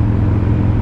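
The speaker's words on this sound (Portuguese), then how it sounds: "olha esse caminhão aí, bicho" Heavy truck rolling by on a roadway in Brazil, a loud, close, low engine-and-tire rumble filling a brief moment with no speech.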